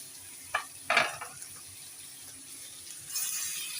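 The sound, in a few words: Bombay duck fish frying and being stirred in pan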